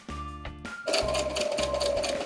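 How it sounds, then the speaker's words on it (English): A sewing machine stitching a fabric face mask, running in short whirring bursts separated by brief pauses, close and clear. "Here I'm going to use my sewing machine, but you can also hand stitch this part if you don't have one."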